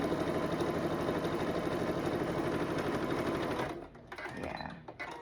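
A home sewing machine stitches quilt pieces for a red, white and blue quilt, a steady fast mechanical whir running continuously for several seconds up close, then stopping abruptly and leaving brief quieter handling noises.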